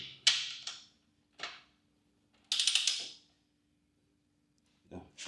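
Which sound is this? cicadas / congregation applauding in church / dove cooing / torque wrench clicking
torque wrench clicking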